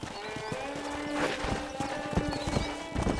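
Horse hooves clip-clop in Red Dead Redemption in a steady, uneven rhythm, with a horse's whinny and soft snorts mixed in, close by.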